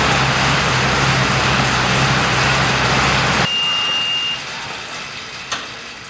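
A car engine hums with a loud, steady road drone while driving, then the noise drops sharply partway through, leaving a quieter cabin with a brief chime tone and a single click near the end.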